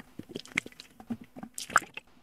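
A streamer drinks water from a bottle in close, faint gulps and swallows with small wet squelches and a little plastic handling, all in a quiet room.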